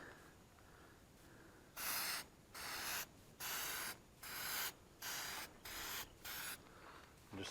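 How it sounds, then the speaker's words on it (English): Seven steady hissing bursts from an aerosol can spraying a coating onto vehicle headlights, each about half a second long, separated by short pauses, close by with no talk. "and just spray it on the lights."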